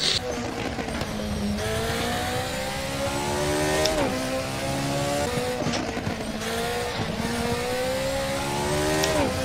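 A race car in a driving game with inverted controls, its engine revving and accelerating through repeated gear shifts, pitch climbing then dropping at each change, with occasional tire noise, loud and close throughout.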